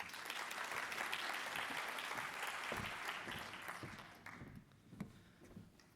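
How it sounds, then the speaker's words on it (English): A conference audience claps loudly for an incoming stormwater group chair; the applause holds strongly for several seconds, then thins into scattered claps and dies away. "Let us have a round of applause for Darren Tiddy"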